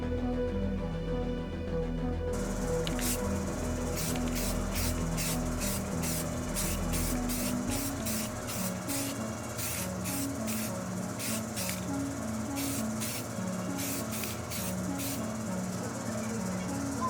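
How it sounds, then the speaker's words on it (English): Gray primer and silver aerosol spray paint go onto a cosplay armored glove: first a long continuous hiss, then a run of short, evenly spaced spray bursts, close and moderately loud. "I'll use a gray primer first and then coat it with a silver spray paint."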